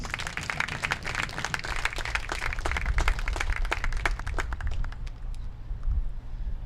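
Clapping from a small gathering at a youth baseball awards night for a Gold Glove winner, a scattered, moderately loud patter that thins and fades toward the end over a low background hum.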